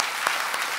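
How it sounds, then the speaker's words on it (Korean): A church congregation claps together in a short, dense burst of applause that sounds moderately near and fills the room, with no talking over it. "우리 박수 한번 하겠습니다."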